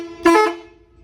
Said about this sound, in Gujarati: અને અહીંથી વાગે હોર્ન.